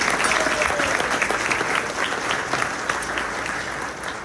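At a graduation ceremony, an audience gives loud, sustained applause throughout: a thick, even roar of many hands clapping together with no break.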